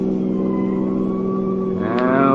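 Radio drama sound effect of a car driving past, a steady loud engine drone holding a constant pitch, with a rising whine as the vehicle swells nearer near the end.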